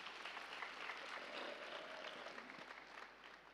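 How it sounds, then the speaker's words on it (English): An audience at a musical meditation session gives a sustained round of clapping, a dense, even patter of many hands heard at moderate distance and fairly quiet, continuing for several seconds without voices. "let's give a big clap to this project once again"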